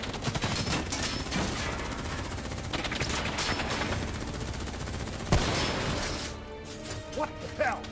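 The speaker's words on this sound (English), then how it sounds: "What the hell? Who's shooting?" Gunfire in Call of Duty: Black Ops III, a dense, continuous fusillade of rapid shots close by for several seconds, with one sharp louder crack near the end as the shooting thins out.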